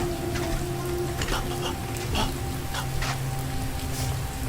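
Steady rain falls in a park, an even, close hiss of drops striking surfaces with a few brighter patters, and no one speaks over it.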